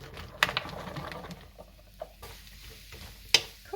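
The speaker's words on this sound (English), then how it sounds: "Add that last tablespoon of oil now. And we'll add the mushrooms." Mushrooms go into a pan with oil for a pork and cabbage stir fry, producing a low, soft sizzle broken by a few sharp scraping and stirring knocks from a utensil, close and fairly quiet.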